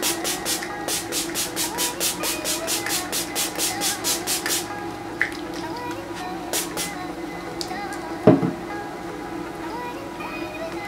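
Pixie Glow Mist setting spray hisses out in a rapid run of about a dozen short, sharp spritzes close up, then stops, followed by a few light handling clicks and a knock.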